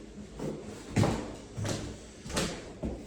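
Inside a house, a door is handled during a walkthrough, with several dull thumps and scrapes spaced roughly a second apart, fairly quiet and nearby against a low background hiss.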